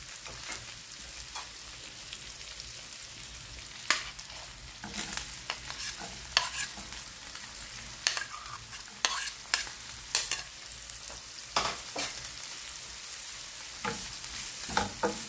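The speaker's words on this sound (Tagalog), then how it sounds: "Sabay natin igisa ang ating giniling." Onion, garlic and ground pork sautéing in a pan, with a low steady sizzle under repeated scraping and stirring strokes of a utensil against the pan, close and fairly quiet, no talking.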